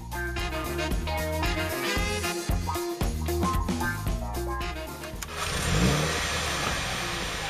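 A Mini John Cooper Works engine starts and revs at the Salzburgring circuit, its rising engine note swelling near the end, heard under loud background music.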